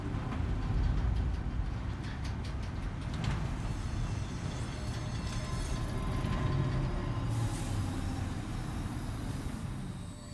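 A monorail train in Death Stranding 2 rumbles along steadily with broadband rolling noise and occasional hissing bursts, continuous and fairly close, with no talking.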